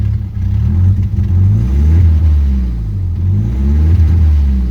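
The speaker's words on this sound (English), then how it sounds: "I can get it to rev consistently to 2500." A Nissan S14 240SX engine revs up and down repeatedly in smooth, loud, close swells, holding around a steady moderate rev with no voices.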